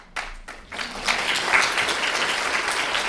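Conference audience applause swelling from a few scattered claps into a sustained, full round of clapping that continues steadily to the end.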